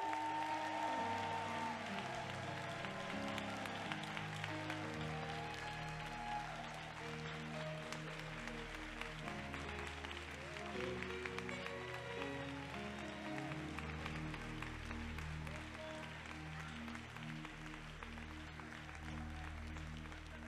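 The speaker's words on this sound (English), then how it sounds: "Keep the claps going, Rockford." Sustained applause from an audience at the 2023 Soar Awards ceremony in Rockford, honoring a Luminary Award recipient. The dense clapping runs steadily for the whole stretch over a low musical backdrop.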